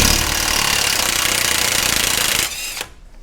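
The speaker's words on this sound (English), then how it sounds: "time to put this Earthquake XT to work" An Earthquake XT impact wrench spins off a 35 millimeter axle nut on a 2001 Ford F150 4x4, a loud continuous hammering rattle for about two and a half seconds that then winds down and stops.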